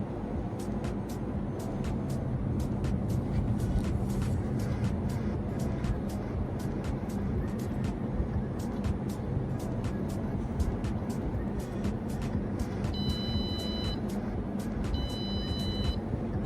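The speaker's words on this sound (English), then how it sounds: "the LED is turned on and the buzzer is also buzzing" A steady Arduino buzzer tone, triggered by an LM35 temperature sensor, sounds in short repeated bursts near the end, over a constant low background hum.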